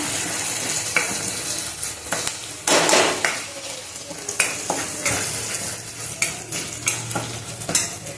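Spice tempering oil sizzling steadily in a pan for Maharashtrian kadhi while a spoon scrapes and clinks against the metal in irregular strokes, close up.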